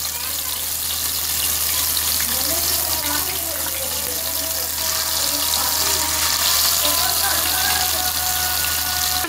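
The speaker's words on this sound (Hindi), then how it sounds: "अब हम इसके अंदर फिश डालेंगे।" Fish pieces sizzle in hot ghee in a pan, a steady, close hiss and crackle that runs unbroken throughout, with no one speaking.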